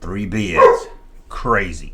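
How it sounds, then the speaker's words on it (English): A dog barks twice close by, with short yipping barks that overlap someone speaking briefly. "Yeah, that's the dog barking."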